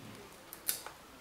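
Side cutters snip through a brake line in one crisp, faint click in a quiet room, with a couple of tiny ticks around it.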